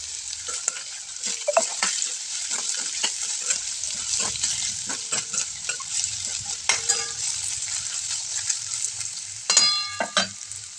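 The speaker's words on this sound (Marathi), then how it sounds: "भोपळ्याच्या दुधी भोपळ्याच्या त्या आपण आता तेलामध्ये छान असं परतून घेऊयात" Bottle gourd pieces sauté in hot oil in a pan for a home-style bhaji, a steady crackling sizzle broken by scraping spatula strokes and clinks of metal against the pan, with a sharper burst of stirring near the end.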